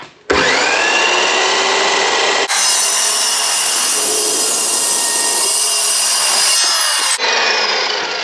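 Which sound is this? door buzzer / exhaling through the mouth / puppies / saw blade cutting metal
saw blade cutting metal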